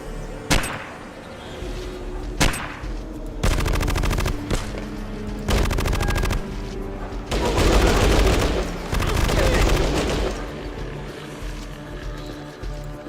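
Gunfire in Fallout Tactics during a night mission: sharp isolated shots, then several sustained bursts of rapid automatic fire separated by short pauses, loud and close.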